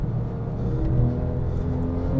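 Porsche 911 997 GT3 on a race track, its engine holding a smooth, rising and steady tone from inside the car, continuous and moderately loud.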